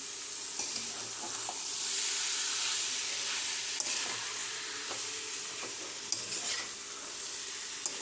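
Meal maker (soya chunk) curry stirred in a hot pan, a steady close sizzle and fry with scraping stirs running throughout, no voices.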